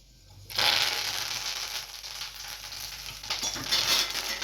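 Dried red chillies, cumin, mustard seeds and curry leaves hit hot oil in a tempering and burst into a loud, crackling sizzle that starts abruptly and continues steadily, flaring up again near the end.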